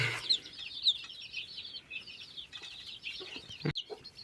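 Cochin chickens cluck softly and intermittently, with a few sharper calls, at moderate distance in a quiet farm setting, no one talking.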